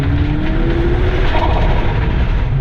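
Rally car on a dirt rally course powering back on the throttle out of a corner, a loud, rough engine roar with gravelly road noise, close and steady, no talk.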